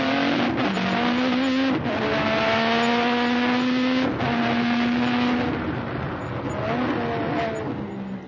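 A race car accelerates hard uphill out of Tosa toward Piratella at Imola, its loud engine climbing through rising revs with quick upshifts, close and continuous with no talk.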